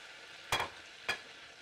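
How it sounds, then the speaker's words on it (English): Two short scraping strokes of a spoon stirring a maple syrup and crushed red pepper glaze in a pan, brief and close against a quiet background. "I'm going to stir this up"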